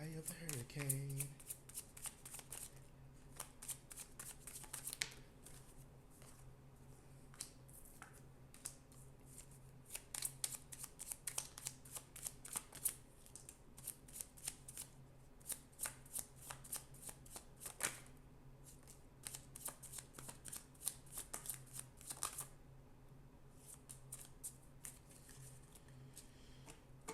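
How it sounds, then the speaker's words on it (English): Tarot cards are shuffled by hand at close range in long runs of quick, crisp riffling and flicking, with brief pauses and a faint steady hum underneath. "let me get some cards."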